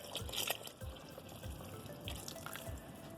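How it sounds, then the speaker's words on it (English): A quart of stock is poured into a pot of potato-leek soup, giving a faint, continuous splashing and trickling of liquid with a few gurgles, quiet and alone. "Second quart of stock goes in"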